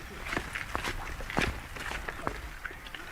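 Footsteps struggle through thick mud in a field on the Isles of Scilly, a series of soft irregular squelching thuds at moderate distance under faint outdoor background.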